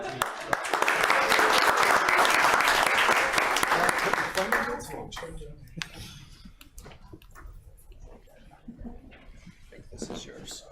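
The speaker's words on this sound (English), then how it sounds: "A round of applause for our" An audience at a town council meeting gives a loud round of applause for a team, lasting about four seconds before thinning into scattered claps and quiet talk.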